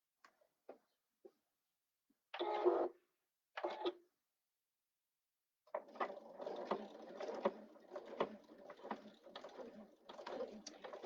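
A sewing machine stitches a 3/8 inch seam, starting with a few isolated clicks and short whirring bursts, then settling into a steady run of rapid mechanical chattering needle strokes, fairly quiet and close.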